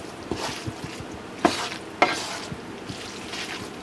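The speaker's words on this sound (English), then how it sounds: "I'm just gonna stir this around into that couscous" A spoon stirs an oxtail mixture into Israeli couscous in a pan, with soft scraping strokes and a gentle sizzle close up, punctuated by a couple of sharper clacks against the pan.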